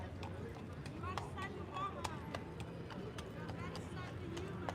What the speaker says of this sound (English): Imagine bringing a horse through Amsterdam.